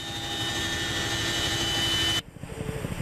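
An aircraft engine drones loudly at 600 m altitude with a steady whining tone, then cuts off abruptly, leaving quieter buffeting wind noise behind.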